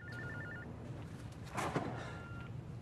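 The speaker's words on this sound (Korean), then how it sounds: "전화를 거는데요." A telephone rings during a call in a crime film, a faint repeating electronic trill in the first half-second over low background noise, followed by a brief louder rustle.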